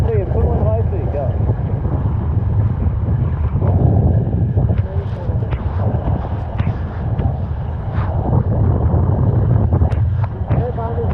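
Strong wind roars and water rushes around a Nacra 570 catamaran sailing in 5–6 Beaufort, a loud continuous buffeting rumble with splashes and gusts against the microphone, and voices faintly mixed in.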